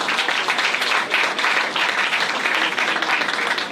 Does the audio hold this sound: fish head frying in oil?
no